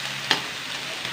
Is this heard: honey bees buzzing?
no